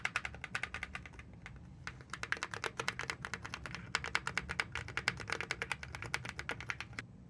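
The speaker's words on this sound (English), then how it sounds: "the keyboard sounds like." Fast typing on an AULA AG75 Pro wired gaming keyboard: crisp, close key clicks come in quick, uneven bursts with brief pauses over a quiet room.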